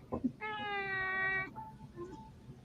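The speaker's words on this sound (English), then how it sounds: "Come look at this kitty." A cat gives one drawn-out, tonal meow lasting about a second, fairly close, followed by a few shorter, fainter vocal sounds, with a voice murmuring briefly at the start.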